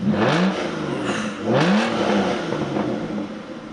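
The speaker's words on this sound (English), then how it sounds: "And you hear that V12 fire up." Aston Martin Rapide V12 fires up and revs twice, loud and close, each rising whoop settling back to a throaty idle.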